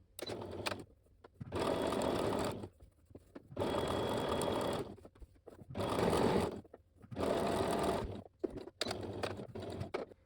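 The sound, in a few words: sewing machine stitching the edge of fabric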